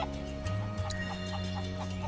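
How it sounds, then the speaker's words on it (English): Chickens cluck softly in a Final Fantasy 7 Rebirth game scene in the Gongaga region. The clucks sit over steady game music and ambience and stay fairly quiet, with one brief sharper sound. "I can't keep up with a flock of chickens."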